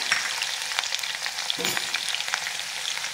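Coarsely crushed garlic frying in hot oil for Kolhapuri bhadang, a continuous close bright sizzle with crackling pops and a brief louder burst partway through.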